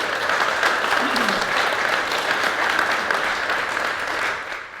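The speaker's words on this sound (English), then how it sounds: "our great firefighters another round of applause, please." A crowd applauds firefighters steadily at a fire station ceremony, dense clapping sustained throughout before tapering slightly at the end.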